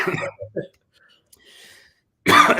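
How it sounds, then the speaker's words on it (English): A few short, harsh coughs from a nearby person, separated by brief pauses, followed by a burst of speech at the end. "I'm still getting over this cough"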